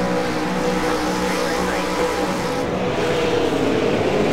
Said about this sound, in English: Lights are up, the revs rise.